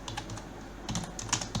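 Close, quiet clicking of computer keyboard keys, a run of light taps with several slightly firmer presses toward the end, steady and unhurried with no talking.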